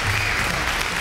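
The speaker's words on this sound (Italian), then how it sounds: "Dobbiamo fare un applauso a Ergi, a un applausone" Applause for the hairdresser Ergi after a long-hair styling session in a salon, a short burst of clapping hands, close, loud and continuous, with no talking over it.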